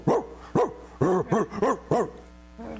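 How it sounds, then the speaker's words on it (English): A dog barks about seven times in quick uneven bursts, close and loud, the barks bunching together in the middle before a softer whine at the end. "thanks, Bear, for the barking"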